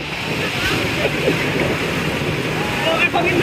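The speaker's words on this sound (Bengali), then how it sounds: "সমুদ্র বিচে" Sea surf washing onto the beach at Cox's Bazar, Bangladesh, heard as a steady, full roar of breaking waves mixed with wind buffeting the microphone, continuous and fairly loud throughout.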